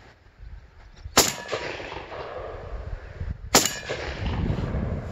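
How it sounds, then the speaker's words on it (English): Two loud, close blasts from a Benelli M4 shotgun fired outdoors at a pattern card 30 yards away, a couple of seconds apart, each with a short booming tail over wind noise. "Let's see how it patterns."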